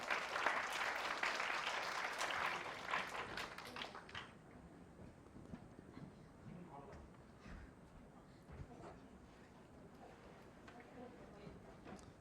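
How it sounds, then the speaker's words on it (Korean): An audience at a youth camp concert stage event claps to welcome a speaker: dense, loud applause fills the first four seconds, then fades into scattered claps, shuffling and low room murmur. "우리 백유리 리더님을 또 큰 박수로 맞이해 보겠습니다."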